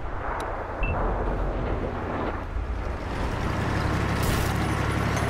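An M26 Pershing tank's cannon fires in a World of Tanks battle, a heavy boom rising out of engine rumble and battlefield noise, followed by a sustained low roar and a later sharp burst.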